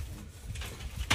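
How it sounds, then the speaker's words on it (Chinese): Pigeons kept at a rural home in northeast China coo softly and intermittently, a low murmur close by, with a brief knock or scrape near the end. "鸽子啊？"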